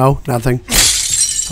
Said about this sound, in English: I'm breaking some windows and some doors up in this bitch.